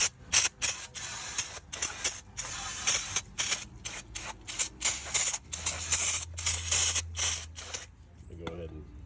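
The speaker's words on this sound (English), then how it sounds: "I'd advise getting you some brake cleaner here. Cleaning this off." Brake cleaner sprayed from an aerosol can onto a GM 4T65E transmission pan comes as a series of loud, hissing bursts in a steady on-off rhythm, close by, ending in a short quieter stretch.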